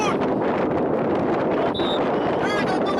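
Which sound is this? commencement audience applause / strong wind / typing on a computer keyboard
strong wind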